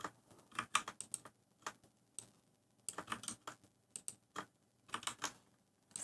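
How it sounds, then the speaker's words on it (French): Bursts of clicky mechanical keyboard typing, close and crisp, in quick irregular runs separated by short pauses, with no talking. "C'est un clavier mécanique, ouais. C'est pour ça que ça fait beaucoup de bruit"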